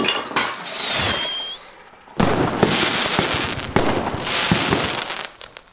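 Fireworks go off nearby as a Nowruz celebration surprise: loud continuous crackling and hissing with a whistling rise, then several seconds of dense popping bursts.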